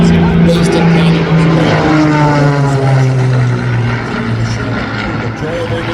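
Aerobatic team aircraft flying formation at an air show in Canada, a loud continuous propeller engine drone with shifting pitch as the planes pass, partly under announcer-style talk.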